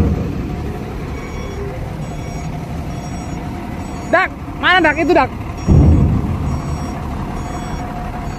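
A flatbed truck from Prima Langgeng, hauling a low-slung Hyundai load, reverses onto a ferry at Merak port, its backup beeper sounding in a short series of chirps over a steady engine rumble and harbor noise, with people talking nearby.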